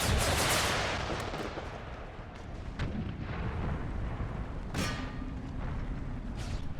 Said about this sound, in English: That's canister shot cuts more of them down.